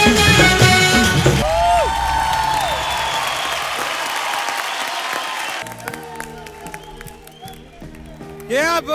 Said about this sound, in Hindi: जोरदार तालियां बजाएं वर्षा एंड वर्तिका के लिए